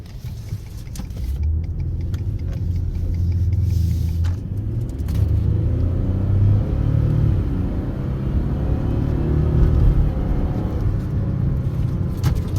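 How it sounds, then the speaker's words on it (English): A 2019 Ford F-150 pickup engine pulls under moderate throttle, accelerating and shifting through its gears: a steady, close, deep rumble that changes pitch as the gear changes, with no talk. "Under moderate throttle, it engages better."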